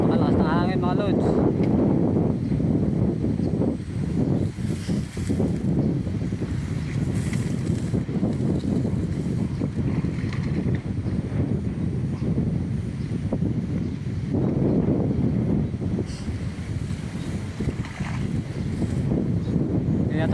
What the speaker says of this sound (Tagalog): Napakalakas ng hangin mga lods.